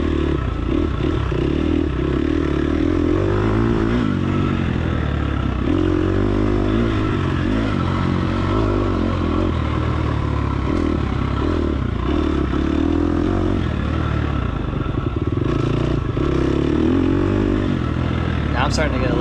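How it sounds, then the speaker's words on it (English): A dirt bike engine revving hard under throttle on a hot, dusty ranch race course, a loud, close, continuous roar with rising and falling pitch and some clattering, with a voice talking over it. "Now I'm starting to get a little bit more aggressive on the throttle"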